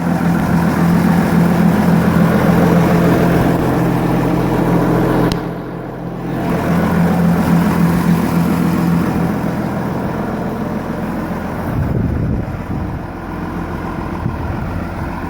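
A neighbor's John Deere 7120 tractor engine runs steadily nearby with a low, continuous drone, dipping briefly twice before settling back to the same level.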